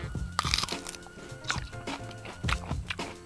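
Biting into a piece of crispy food: several close, quiet crunches with short sharp cracks as the mouthful breaks, with no talking.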